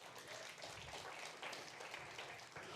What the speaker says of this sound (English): A round of applause for those folks.